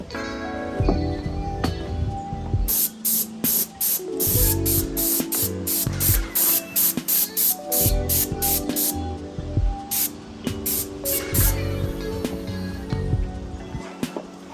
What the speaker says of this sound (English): this should be a little bit quicker by using the sprayer